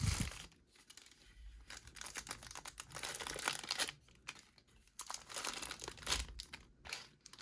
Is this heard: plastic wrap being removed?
yes